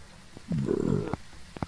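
One low, rumbling burp lasts about half a second close to the mic, with a few faint clicks around it and no talking.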